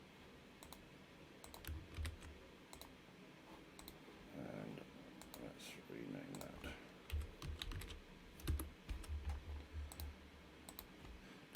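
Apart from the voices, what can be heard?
typing on a computer keyboard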